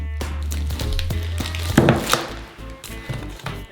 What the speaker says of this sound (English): Using a machete, we cut this briquette in half.